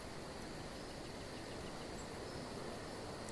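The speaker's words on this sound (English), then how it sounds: "So you can hear the crickets more clearly." Cricket ambience in a Foundry VTT game scene, a steady faint chirring and hiss that carries on without break, with no voices.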